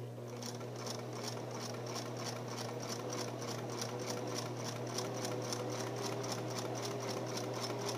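A sewing machine stitches forward along a fabric seam at a steady, fast pulse, with a continuous low motor hum under the rapid needle ticking, fairly quiet and close with no voices.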